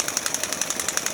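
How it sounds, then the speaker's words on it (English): Quick, regular ticking of a ratchet tightening a mount on a hardside boat blind, about a dozen even clicks in a second, close and crisp. "Grab my ratchet here."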